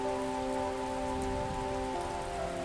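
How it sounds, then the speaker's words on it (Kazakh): Heavy rain pours down steadily in a broadband wash, heard alone and fairly loud throughout, with sustained tonal music-like lines running underneath. "жаңбыр қатты жауып жатыр"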